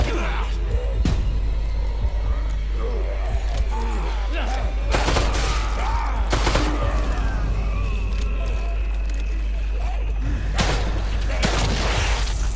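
Gunfire in the horror video game The Evil Within 2 comes as several sharp shots and booms spread across a continuous low game rumble, with a player speaking over it at times.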